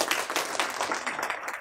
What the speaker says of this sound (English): So an applause for him first.